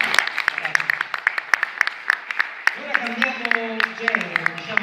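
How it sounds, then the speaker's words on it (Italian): Scattered hand claps at a film festival event, sharp and separate rather than a full ovation, heard over and then under someone talking, with no crowd roar. "ancora un grande applauso"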